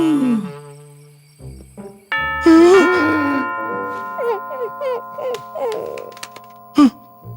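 A doorbell rings in a Garfield Show cartoon episode dubbed in Hindi, a sustained bright chime starting a couple of seconds in and ringing on while cartoon voices and squeaky character sounds carry over it.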